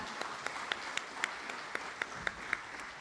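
Soft, fairly distant applause from an audience at a memorial ceremony for Jeju 4.3 victims, a steady patter with a few sharper claps standing out at regular intervals.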